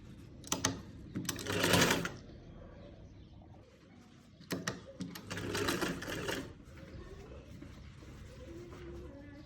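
A sewing machine stitching pleats into a salwar waistband runs in two short rattling bursts separated by a pause, fairly faint, with birds cooing softly in the background.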